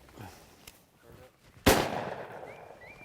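A single loud, sharp shotgun blast on a quail hunt at Woodside Plantation, going off close by after quiet rustling and fading out in a short outdoor echo.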